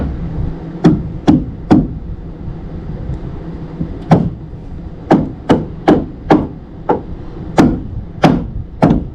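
Repeated sharp hammer blows on wooden blocking between rafters, about a dozen strikes in irregular bursts with short pauses, close and loud over low background rumble.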